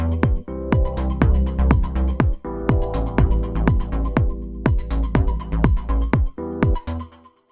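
Staccato synth part built from very short MIDI notes, a quick rhythmic pattern of clipped, plucky tones repeating in bursts with brief gaps, loud and upfront with nothing else playing.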